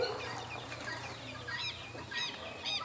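Bird calls rise at intervals over a steady outdoor background on a rural smallholding, with bursts of clucking and crowing-like fowl sounds from a feeding rooster, fairly close but not loud.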